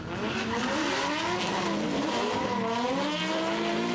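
Drift cars launch off the start line in a Top 16 battle at Meremere, New Zealand: engines roar at high revs with rising and falling pitch, loud and continuous, with tyre noise underneath.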